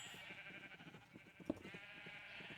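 A faint Minecraft sheep bleat from the video game sounds as a soft, drawn-out baa at low volume, alone against a quiet background hum.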